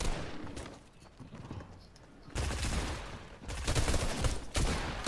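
Rapid gunfire in the Fortnite video game, loud dense bursts dominating the second half after a quieter, noisy stretch.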